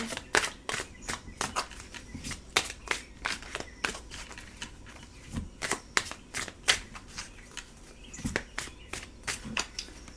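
Tarot cards being shuffled and handled, a string of sharp papery flicks and riffles in an uneven rhythm, close and fairly quiet, with no talking.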